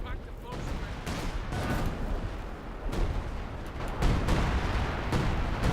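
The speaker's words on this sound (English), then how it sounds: "Some assault artillery being called in on the fuel." Artillery barrage in Company of Heroes 2 pounding a fuel point, a dense, continuous rumble of overlapping blasts and crackling impacts that never lets up, with game voices faintly mixed in.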